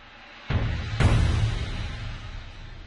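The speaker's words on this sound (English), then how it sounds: "It's coming again now with the reverse cymbal." A reverse cymbal swell in a layered orchestral track, two sharp bright hits about half a second apart followed by a long decaying shimmer over a low sustained bed.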